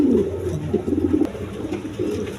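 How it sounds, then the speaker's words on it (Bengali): Big red-gear pigeons cooing close by, deep rolling warbles in short repeated bursts over a low background rumble, fairly loud with no talk over them. "এদিকে এই যে দেখেন লাল গিয়ারের কবুতর এগুলো।"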